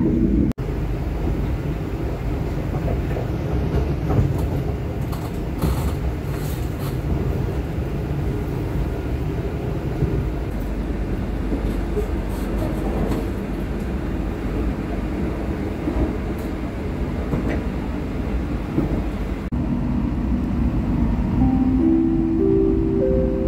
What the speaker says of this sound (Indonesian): kereta api Argo Cirebon dipacu di kecepatan yang cukup tinggi ya, udah mulai ngebut dan goncangannya mulai berasa ya